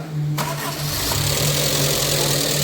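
A Land Rover Freelander engine cranks and catches after head gasket repair, then settles into a loud, steady idle close by, with a low hum underneath.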